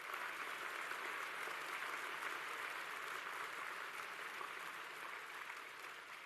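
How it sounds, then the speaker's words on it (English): Audience at a closing ceremony giving the volunteers a round of applause, steady continuous clapping that sounds somewhat distant and quiet, with no speech over it. "can you give the volunteers a round of applause"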